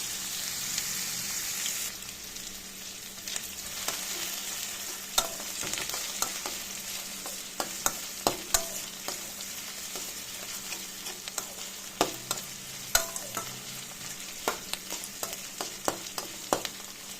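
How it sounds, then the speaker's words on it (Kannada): Onions fry in a pan for an okra curry, sizzling in a steady hiss while a utensil scrapes and taps against the pan in irregular strokes, close up and with no talking. "ಈರುಳ್ಳಿ ಚೆನ್ನಾಗಿ ಫ್ರೈ ಆಗಬೇಕು, ಲೈಟ್ ಕಲರ್ ಬರಬೇಕು"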